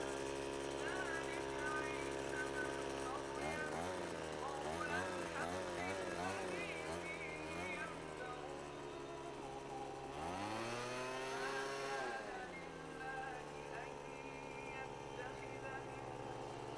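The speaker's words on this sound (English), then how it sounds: "see the amount of pressure that's the blower is able to put out" A Troy-Bilt TB400 2-cycle gas leaf blower runs steadily by a pool, its droning engine rising and falling in pitch while someone talks over it.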